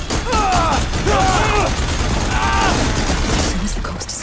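Heavy gunfire in the video game Horizon Forbidden West, a loud, continuous rattle of rapid shots that runs the whole time while voices shout over it.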